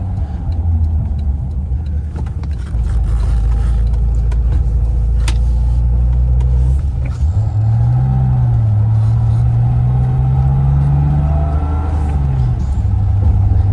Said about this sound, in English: Inline 6 is very BMW-esque in its sound.